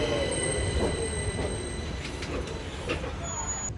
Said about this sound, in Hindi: तो ऐसी कुछ यहाँ की ट्रैम्स हैं, ये देखो आप देख रहे हो।